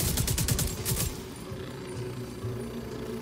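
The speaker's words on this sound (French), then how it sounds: "Ah oui, il y a des feux d'artifice." Fireworks in the video game The Division 2, a rapid string of crackling bursts at the start that gives way to a quieter rumbling background, moderately loud with no talk.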